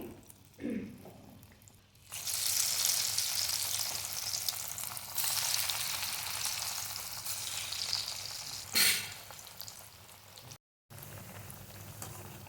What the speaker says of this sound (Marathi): आता आपण ही तळून घ्यायची आहे तेल आपलं तापलेलं आहे